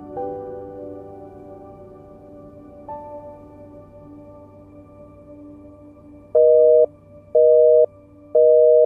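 A telephone call tone for a number that is not active: three loud, evenly spaced beeps near the end, following several seconds of low, steady background hum.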